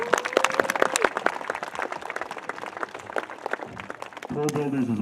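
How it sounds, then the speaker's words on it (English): An audience gives a round of applause: dense, steady clapping from a crowd runs through the whole stretch, loud and close, with a voice speaking over it at the start and again at the end. "Let's give those people a round of applause for their assistance."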